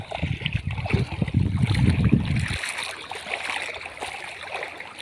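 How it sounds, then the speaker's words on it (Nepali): Rushing water and heavy splashing as someone wades across a forest stream, loud and close for a couple of seconds, then a steadier flowing babble continues nearby. "यो खोला तर्छौँ हामी।"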